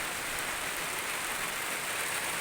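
Steady rain falls on a coffee garden, a dense even hiss spread across the whole clip with no pauses and no voices.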